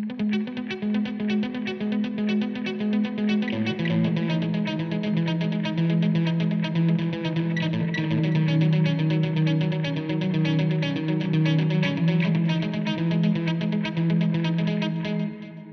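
Sustained electric guitar chords ring through a delay pedal feeding a reverb pedal in series, with steady repeating echoes and a washy tail, played alone at even loudness throughout.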